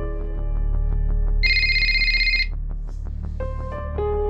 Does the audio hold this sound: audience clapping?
no